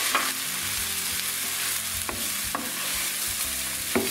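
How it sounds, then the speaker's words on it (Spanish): Rice and mushrooms sautéing in a pan, a steady close sizzle with a few sharp scrape-and-stir clicks from a utensil, no voices. "cuando la seta ya está medio rehogada, se le incorpora el arroz"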